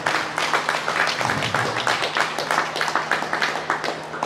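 Audience claps for dairy cows shown at the Southern National Holstein & Jersey Show, a steady round of applause with a faint hum beneath, no voices over it.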